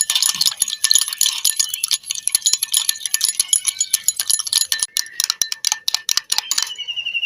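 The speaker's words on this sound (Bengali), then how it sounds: "চিনির দানাটা ভালো করে আমি গুলিয়ে নেব" A spoon clinking rapidly against a small bowl or cup while sugar grains are stirred with water for homemade vanilla essence, a fast, bright, continuous rattle close up, no voices.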